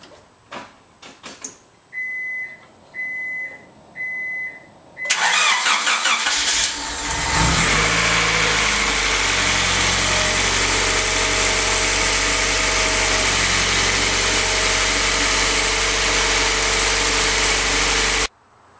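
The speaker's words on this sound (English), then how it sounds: "start the car and let it warm up until the fan comes on twice" Honda Prelude engine being started: several short warning chimes, then the starter cranks and the engine catches, revving briefly before settling into a steady, loud close idle.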